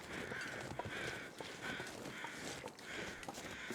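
Crows caw faintly at a distance in the frozen wilderness of the survival game The Long Dark, with a few harsh calls rising over soft ambient noise.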